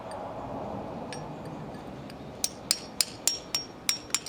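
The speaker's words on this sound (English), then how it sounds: "I'm gonna gently be chipping away" A hammer and chisel chip gently at concrete around a swimming pool pipe, giving seven or eight sharp, close clinks at an even pace after a quiet stretch of background hiss, with no talking.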